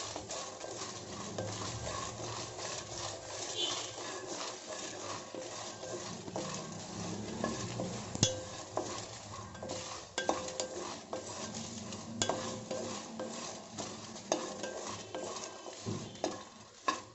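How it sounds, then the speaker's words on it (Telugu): Dried red chillies and peanuts stirred and dry-roasted in a pan for an Andhra-style ridge gourd curry, with steady scraping and clinks of a spoon against metal over a soft sizzle, close and continuous throughout, with no talking. "పల్లీలు కాస్త వేగాయి, ఇందులో ఎండుమిరపకాయలు వేసి వేయించుకోవాలి."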